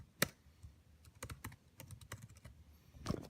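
Keys on a 2012 MacBook Pro laptop keyboard tapped while a password is entered, a close, quiet run of about a dozen irregular clicks with a sharper key press near the start and another near the end.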